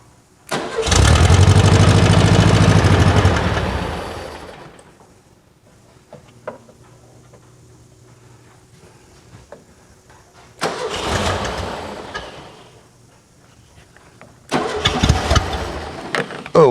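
A fuel-injected 1979 VW Super Beetle, off the road for eight years, cranks and roars loudly for a few seconds, then dies to a faint hum before two shorter rough bursts of starting attempts follow.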